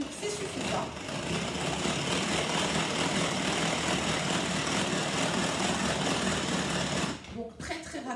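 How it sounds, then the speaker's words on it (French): Speedy Chef electric mixer at speed 1 whipping egg yolks with sugar, a steady close motor whir and beating rattle that drops away near the end, with a voice talking over it. "Ensuite, dans les jaunes, on va venir y mettre le sucre qu'on va faire blanchir. Donc en vitesse 1, c'est suffisant."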